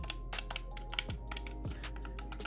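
Buttons on a PowerA Enhanced wired Xbox One controller clicking in quick, irregular bursts, crisp and tactile, close up and fairly quiet with no voices.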